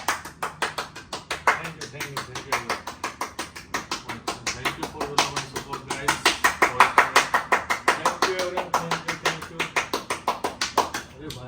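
An interview audience claps in a steady, rhythmic beat for the arriving guest Shariq Anwar, the claps sharp and close and swelling in the middle, with a voice speaking over them.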